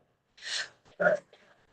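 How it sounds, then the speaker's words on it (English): A couple of short, breathy coughing bursts close by, the second sharper, followed by faint breathing. "So I'm so sorry I'm coughing, you guys."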